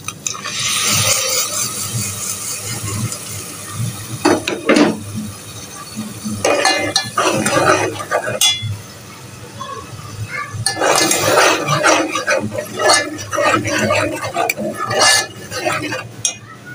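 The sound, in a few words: spices added to browned garlic and ginger, stirred in pan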